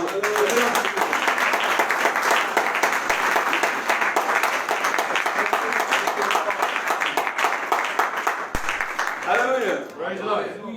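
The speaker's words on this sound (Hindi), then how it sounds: "हम सब प्रभु की महिमा की तालियां देंगे।" Church congregation at a Sunday morning service clapping in steady, loud applause for about ten seconds, with some speech mixed in near the end.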